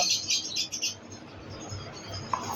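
Albino split Fischer's lovebirds at a bird sale give quick, high chirps in a burst at the start, then fainter scattered twitters over a quiet background.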